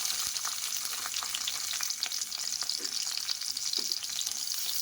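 Onion and green chilli frying in hot oil for a Hyderabadi-style masoor dal, a soft, steady sizzle with faint crackles and a couple of light stirring clicks.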